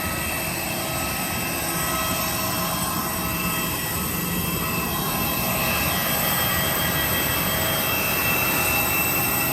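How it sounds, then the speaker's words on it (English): Inside the cabin of a small passenger airplane, a loud, steady engine drone and broad rushing hiss hold constant throughout with no voices over it. "It's just a little small plane."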